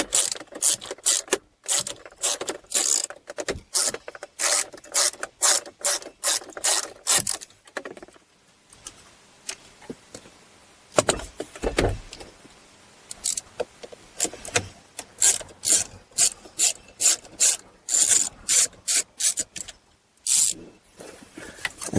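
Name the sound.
ratchet removing T25 Torx screws from turn signal assembly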